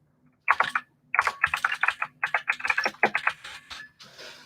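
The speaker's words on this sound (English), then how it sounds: "you're going to hear the clickiness of my keyboard while I do this" Clicky computer keyboard typed on in bursts of rapid, close keystrokes, with brief pauses between runs and a faint steady hum underneath.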